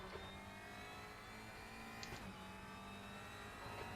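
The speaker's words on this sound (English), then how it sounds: "There's a car approaching. Stay behind the white line." Race car engines in a video game hum and whine at a steady distance at Road America, with a brief rising rev passing through midway, under a constant mechanical drone.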